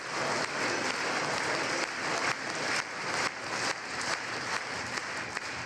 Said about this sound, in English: Why were they clapping on beat for?